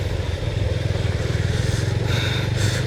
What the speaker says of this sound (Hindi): ओ भाई साहब, इस तरह में भी बाइक चलती है क्या?